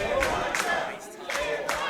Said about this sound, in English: Crowd really getting behind Elijah, one of the favorites here at Attack